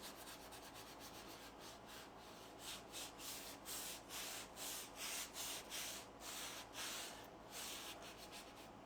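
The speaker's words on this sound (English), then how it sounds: "I kind of feel like I should sand it a little bit." A craft pumpkin is hand-sanded in a steady run of soft rhythmic scratching strokes, close and quiet, with no talking.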